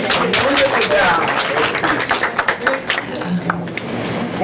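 An audience at a school board of education meeting claps for a student speaker. A full round of applause thins into scattered individual claps and dies down, with voices audible throughout.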